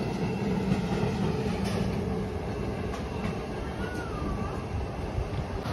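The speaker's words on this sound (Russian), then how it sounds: "Здесь вон трамвайчики ходят." A tram rumbles past with a steady low roar and faint rail clatter, and a brief high squeal partway through.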